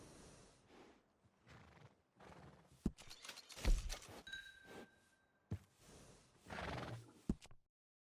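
A horse in Red Dead Redemption 2 lets out several loud, close neighs and snorts, with clip-clop hooves between the calls. A short tonal chime sounds in the middle, and the bursts are separated by brief quiet gaps.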